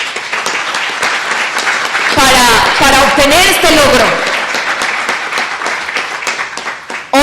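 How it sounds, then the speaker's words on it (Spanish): Applause breaks out from a gathering honoring a community's years of resistance, a loud burst of mixed clapping and cheering lasting about two seconds amid ongoing speech from a single speaker before and after. "eso merece un aplauso porque son años de resistencia"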